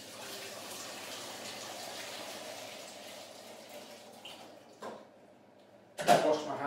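Pre-boiled water from a kettle pours into a pan while cooking a chicken ballotine, a steady low wash of liquid lasting several seconds, followed by a brief clatter and a louder splash near the end.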